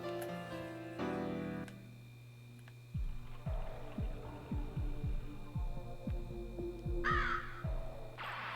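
A crow caws a few times in the Legend of Dragoon video game, set against a steady low hum and a repeated throbbing pulse. The calls are short and harsh, and no one speaks.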